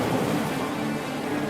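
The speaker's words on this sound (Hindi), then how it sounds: "जेल में पानी तेजी से भरने लगा है।" Water floods into a jail in a comedy sound effect, a loud, continuous rushing roar like surging waves, steady and dense without pauses.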